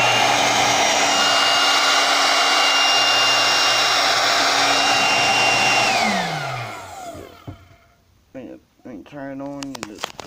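An Intex Quick Fill 100 electric air pump for an air mattress runs with a loud, steady whirring roar, then switches off and winds down with a falling whine. A person starts talking once it stops.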